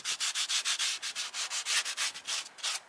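The scouring side of a sponge scrubs a salt-crusted, aged spark plug cover on a 2008-2013 Toyota Corolla, giving close, steady rasping strokes at an even brisk rhythm, about fifteen passes, with no talk.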